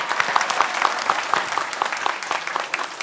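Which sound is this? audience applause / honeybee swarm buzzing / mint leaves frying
audience applause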